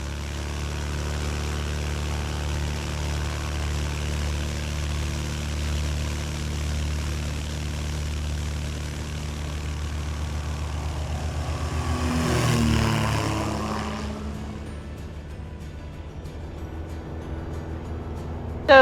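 Stock 170 light airplane engine at full power for a grass strip takeoff, a steady propeller drone that swells around the middle and then eases back, continuous and loud throughout.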